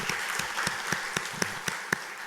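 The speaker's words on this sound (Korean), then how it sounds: "우리 위로의 박수 한번 보내주시기 바랍니다" A church congregation gives a short round of applause of comfort during a Sunday service. Sparse, distinct handclaps arrive roughly in rhythm at moderate volume over quiet room ambience.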